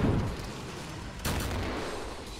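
A flare pistol fires in a Killing Floor co-op match, one sharp broadband shot about midway that leaves a lingering hiss over steady game noise, with a low thump at the start.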